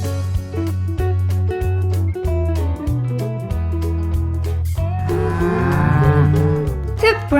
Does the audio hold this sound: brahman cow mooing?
yes